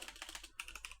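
A console command is typed on a computer keyboard as a quick burst of about a dozen soft, close keystrokes in two short runs, alone and fairly quiet.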